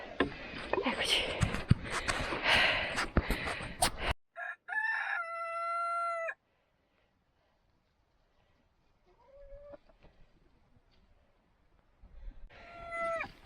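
A farmyard rooster crows loudly on a ranch, a few drawn-out calls after a burst of rustling and clucking noise, then quieter hen sounds and another crow starting at the end.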